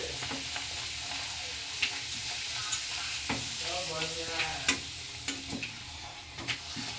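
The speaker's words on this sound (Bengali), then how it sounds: "আর এই যে গরম গরম লুচি ভাজছি।" Luchi, puffed Bengali flatbread, frying in hot oil, with a steady broadband sizzle and scattered small pops and crackles, close and continuous with no talking.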